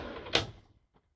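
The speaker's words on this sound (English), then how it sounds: "when you go back in, you'll feel it get hard, push through it, and you'll hear it clip back in place." A drawer in a Sprinter van pushed shut on its ball-bearing slide, one sharp close click at the end of a short rolling slide, with a faint tap after, nearby and otherwise quiet.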